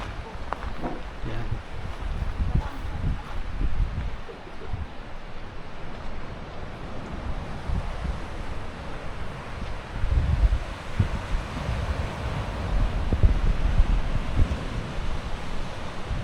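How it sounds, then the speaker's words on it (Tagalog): Strong ocean waves and gusty wind on Ba Tonying Beach in Northern Samar, Philippines: continuous surf rumble and wind buffeting the microphone, with swells building louder toward the end. "Medyo maalon ngayon, malakas ang alon, pero hindi naman delikado."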